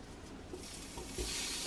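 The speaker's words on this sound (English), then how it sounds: "I love to hear it sizzle." Ground beef sizzles in hot extra virgin olive oil in a pot, a soft, steady crackle and hiss that swells toward the end, close and fairly quiet with no talk.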